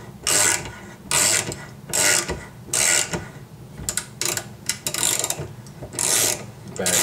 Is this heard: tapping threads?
yes